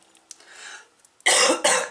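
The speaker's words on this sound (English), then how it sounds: "This cough is still hanging on, big time hanging on." Two loud, harsh coughs close together near the end, after a quieter stretch of faint background noise.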